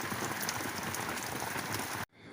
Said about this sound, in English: Today is foggy and raining.